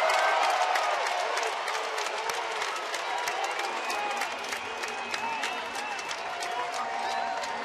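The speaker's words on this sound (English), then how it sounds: "Getting this crowd revved up here in the bleachers." Baseball crowd in the bleachers at a Houston versus Chicago game applauding and cheering after a standing triple, a steady wash of clapping and murmuring voices at moderate distance that tapers slightly.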